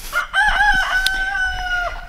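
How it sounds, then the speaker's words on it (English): A rooster crows once in a loud, close, drawn-out call that rises and holds steady before breaking off, heard outdoors in a backyard garden. "You hear Cogburn? That's Rooster Cogburn."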